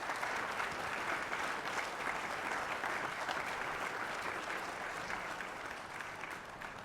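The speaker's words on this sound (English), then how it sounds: "Sure, a round of applause." Sustained audience applause fills the room at a closing-session event, steady and dense throughout, slowly easing toward the end, with no speech over it.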